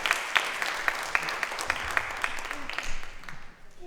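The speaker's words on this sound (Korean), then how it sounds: "아주 큰 박수 부탁드립니다." Audience applause at a Korean children's storytelling contest, a steady wash of many hands clapping with a few sharper claps standing out, fading slightly toward the end.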